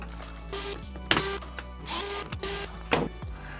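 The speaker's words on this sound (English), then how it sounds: "we're gonna turn it over and remove all the screws on the back" Screws being worked out of the back of a DJ Groovin' toy with a screwdriver: several short ratcheting, whirring bursts separated by brief pauses, close and fairly quiet, with no talking.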